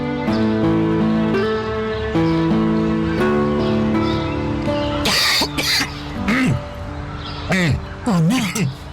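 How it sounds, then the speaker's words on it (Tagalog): A person coughs hard several times in quick bursts, harsh and close, after a stretch of sustained sound, with a voice speaking between the coughs. "Mukhang masama na yung ubo mo, ha?"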